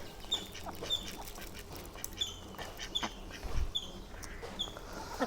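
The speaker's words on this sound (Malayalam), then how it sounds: "ഇനി നമ്മുടെ താറാക്കൂട്ടന്മാർ കുറച്ച് ഗോതമ്പ് കൊടുക്കട്ടാ" Ducks and chickens at a home yard being fed wheat in the evening, with repeated short quacking calls and chatter spread across the clip, fairly near, alongside faint background noise and no talk.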